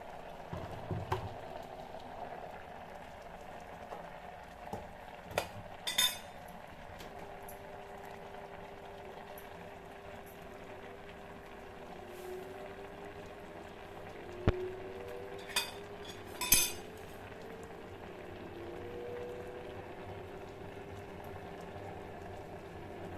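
Small amount of oil heating in a pan for a tempering with mustard seeds added, a faint steady sizzle and bubbling hiss with a few sharp pops and clinks, with no talking.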